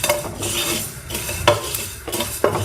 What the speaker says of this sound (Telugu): మెంతులు, జీలకర్ర, ఆవాలు, ఈ 3 గోల్డెన్ బ్రౌన్ కలర్ వచ్చేదాకా ఫ్రై చేసుకుందాం